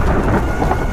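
Thunderstorm with strong gusting wind in an animated horror story: a dense, loud, continuous roar of rain and rumbling wind with no break and no voices.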